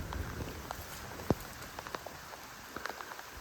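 Steady rain falls around a parked classic car on a muddy track beside a wallow in the bush, with a broad hiss and scattered sharp drops pattering nearby, no voices.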